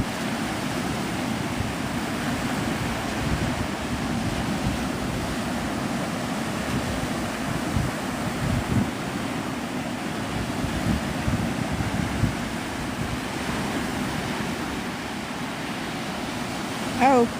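Wind buffets a microphone on a powdery-sand beach at Navarre Beach, Florida, a constant loud rumbling roar with surf-like wash underneath, steady throughout with no clear speech.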